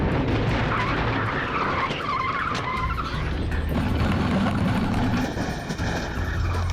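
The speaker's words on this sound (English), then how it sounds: "the SWAT vehicle drives through probably 10 cars." A SWAT vehicle in a film stunt drives through a row of parked cars, with a loud roaring engine, tire noise and scraping rushes that build and shift over several seconds.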